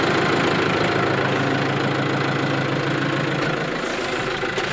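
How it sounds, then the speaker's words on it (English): A brand-new tractor's engine idling close by, a loud, steady low rumble with a regular throbbing pulse that holds evenly, with no talk. "it's a brand new tractor"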